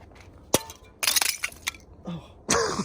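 A sheet of frozen water in a siphon is smashed with a person's head, giving sharp, glassy cracks and crunching shatters in several bursts. The sounds are close and loud, with brief voices between them.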